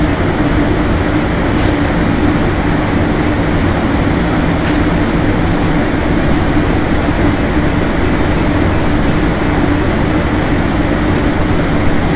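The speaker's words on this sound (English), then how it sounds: "This is Amtrak train number 97, the Silver Meteor, service to Miami." Amtrak train 97, the Silver Meteor bound for Miami, rumbles past trackside as a loud, steady roar of wheels and rail noise that stays constant and close with no talking.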